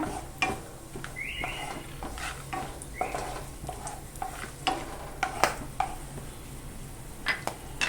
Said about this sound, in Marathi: आपण आता यात दालचिनी टाकूया वेलची आणि लवंग पण टाकून घेऊया हे तुपावर ना छान असे परतून घेऊया